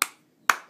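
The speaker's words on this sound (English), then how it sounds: "going to clap, make sure it's not too loud" Two sharp hand claps about half a second apart, close and clear, made beside a baby who was born deaf and is hearing sound for the first time, in an otherwise quiet room.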